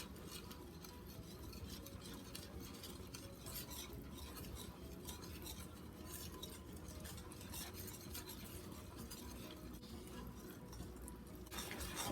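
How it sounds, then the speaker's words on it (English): Muffin batter with flour and sugar mixture being whisked in a bowl, a quiet, rapid, continuous scraping and tapping rhythm held at a low, even level throughout. "We're going to continue whisking"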